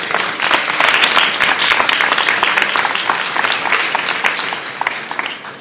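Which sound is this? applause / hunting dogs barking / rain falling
applause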